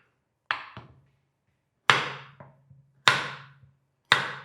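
A knife cuts a bottle gourd into large pieces on a cutting board, making four separate hard chopping thuds in a slow rhythm, each followed by a softer tap, up close and clear.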